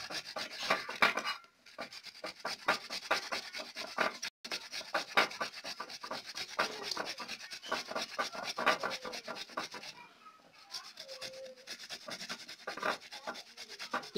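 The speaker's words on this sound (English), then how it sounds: "So, you have to grate it this way." Hand grating on a manual grater, a quiet rapid series of rhythmic rasping scrapes close by, continuing steadily with a few short pauses and no talking.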